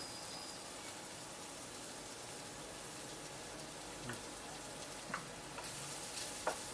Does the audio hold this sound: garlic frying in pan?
yes